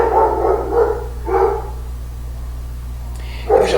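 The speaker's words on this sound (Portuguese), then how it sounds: "tem um cachorro latindo aqui" A dog barks close by in a few short bursts, three or four separate woofs spaced apart over a low steady hum, with no speech between them.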